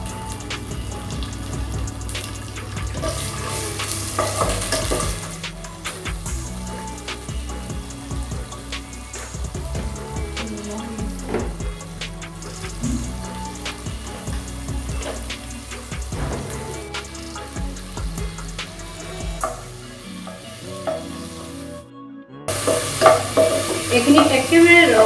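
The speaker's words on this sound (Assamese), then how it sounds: "এতিয়া প্ৰথমতে প্ৰনখিনি ভাজি ল'ম" Prawns frying in refined oil in a kadai, a continuous sizzle with scraping and stirring clatter throughout, close and fairly loud, with a brief break near the end.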